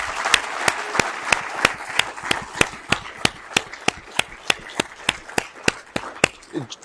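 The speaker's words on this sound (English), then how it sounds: "can everyone give a huge round of applause to all the people who pitched today?" Applause for startup founders at a clean energy conference pitch competition: steady, evenly spaced sharp claps over a soft crowd wash, moderately close, with no one speaking.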